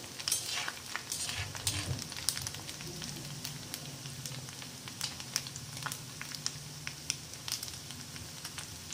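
Maggi pakoda mixture sautés in a pan, giving a quiet, steady sizzle of frying with occasional scraping stirs and light clinks throughout.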